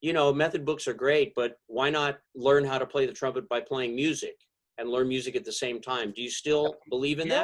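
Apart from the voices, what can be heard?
None of the usual background noises is heard.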